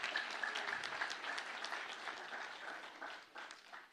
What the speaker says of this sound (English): Kindly a round of applause.